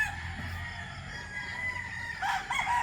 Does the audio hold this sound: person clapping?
no